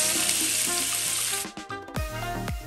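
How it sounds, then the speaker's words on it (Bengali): Salt-and-turmeric marinated prawns hit hot mustard oil in a kadai, giving a loud, continuous sizzle that breaks into sputtering pops and stirring clatter. "তেল ভালো মতো গরম হয়ে যাওয়ার পরে নুন আর হলুদ দিয়ে ম্যারিনেট করে রাখা চিংড়ি মাছগুলো কড়াইতে ঢেলে দিলাম"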